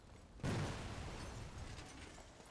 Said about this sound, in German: jemand hat die Explosion gehört